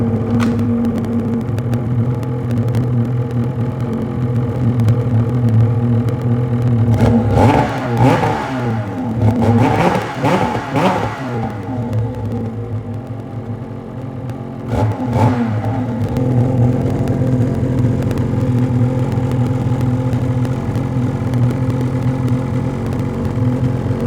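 Ski-Doo Gen 5 turbo snowmobile engine fitted with a GGB exhaust, idling loud and steady nearby, then revved sharply in a cluster of throttle blips and once more later before settling back to idle.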